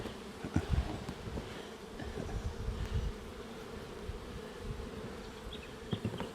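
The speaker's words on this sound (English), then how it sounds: "Just let those field bees fly off," Honey bees take off from brood frames in an open hive, a dense close buzzing drone with individual bees whining past near the listener, steady throughout.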